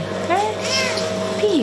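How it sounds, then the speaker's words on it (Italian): A small abandoned kitten at an animal shelter in Pistoia gives two or three thin, high meows, close and clear, with a person talking over the cries. "Al rifugio del cane di Pistoia è emergenza per i gattini abbandonati."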